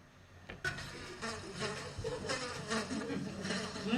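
Flies and mosquitoes buzz inside a house, producing a faint, wavering drone with brief louder passes close by and a soft background hum throughout.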